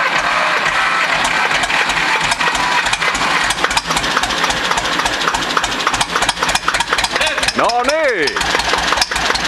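Zetor tractor engine idling steadily throughout, a dense continuous rumble with people talking over it.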